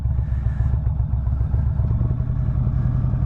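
A motorcycle engine pulses at low speed during a slow cone weave drill, a close, steady low rumble with small throttle swells and light clatter, running continuously with no one talking.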